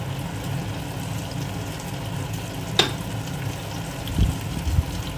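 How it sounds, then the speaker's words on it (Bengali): Chopped garlic fries in melted butter in a pan, a soft continuous sizzle with a brief sharp clink and a few light stirring knocks near the end, no voices. "এবার রসুনটাকে বাটারের মধ্যে ভালোভাবে লাল লাল করে ভেজে নেব।"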